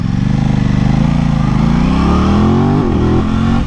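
A 2023 Aprilia RS660 motorcycle engine, set to dynamic mode, revs loud and close, with a steady buzzing drone whose pitch climbs gradually and then drops off briefly near the end.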